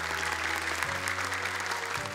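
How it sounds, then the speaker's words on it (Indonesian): Audience applause at a televised Indonesian Quran memorization competition show, a dense, steady clapping that fills the short stretch without pause, with faint low musical tones underneath. "Tapi tepuk tangan untuk Kak Nabila"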